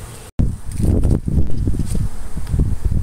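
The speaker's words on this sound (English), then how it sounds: "There's still a whole lot of bees coming out" Bees stream out of a tree that has been blocked off for trapping, a dense close buzzing hum with rustling and scattered thumps throughout, and no speech.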